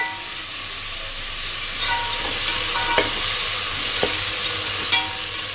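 Mint leaves sautéing in a pan for mushroom biryani, a loud continuous sizzle and hiss with a few faint clicks of a spoon against the pan, close and without talk.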